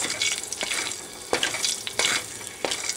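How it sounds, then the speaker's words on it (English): Cumin seeds frying in hot oil in a pan, a bright crackling sizzle with sharp pops and spatters scattered irregularly, close and fairly loud, with no talk. "Add oil and cumin seeds."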